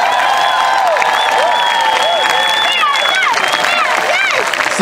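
An arena crowd of gladiator fans applauds and cheers steadily, a dense wash of clapping and shouting with high excited yells and whistle-like cries rising above it throughout.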